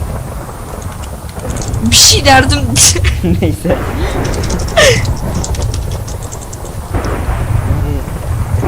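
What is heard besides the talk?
thunder and lightning in a video game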